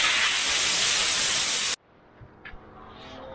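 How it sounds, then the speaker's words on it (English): A loud steady hiss of water spraying through a Land Rover Discovery TDV6 air filter fills the first half, then cuts off abruptly, leaving a quiet room with a few faint knocks. "So you flush the filter from the clean side out with a light flow of water."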